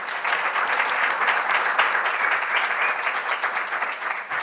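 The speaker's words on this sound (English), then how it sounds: "Can we just give one last round of applause to all our presenters?" Steady applause from a symposium audience saluting researchers' presentations, a dense, even patter of many hands clapping at close range for several seconds with no talking over it.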